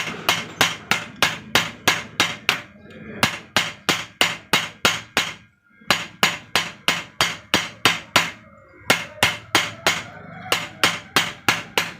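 A hammer drives an iron bush onto the needle bar of a motorized sewing machine, with loud, close, rapid blows in three long bursts separated by short pauses.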